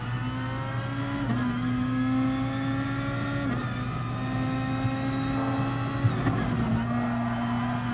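Super GT race cars lap Fuji in GT Sport, a steady close engine drone with tonal gear-shift steps and revs rising and falling through the run, and no talk over it.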